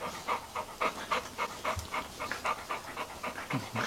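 A pit bull puppy pants quickly and rhythmically up close, short breathy puffs repeating evenly without pause.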